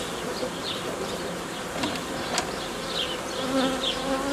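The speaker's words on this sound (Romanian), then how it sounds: "Vreau ca albinele să înceapă să zboare și pe partea asta, fiindcă vor aduce miere." Honeybees buzz around a hive, a steady droning hum of many insects with individual bees passing close now and then, continuous throughout.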